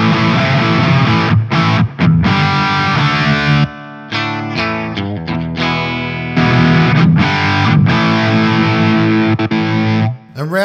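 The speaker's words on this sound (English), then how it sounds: "round on the highest gain distortion with the drive right up, there is heaps of gain here." Electric guitar through a Yamaha GW10 multi-effects unit on its highest gain distortion setting with the drive turned fully up, playing loud, heavily saturated sustained chords and riffs with brief breaks between phrases.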